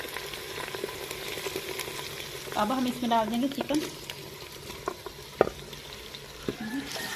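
Chicken pieces fry with browned onions in a pan for turnip meat curry, a moderate steady sizzle with occasional stirring clatter and a sharp knock, with a voice speaking over it.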